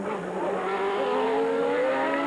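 An Ayrton Senna Formula 1 car at the 1990 Monaco Grand Prix, a loud high-pitched engine scream climbing steadily in pitch as it accelerates through the tunnel, heard close and alone.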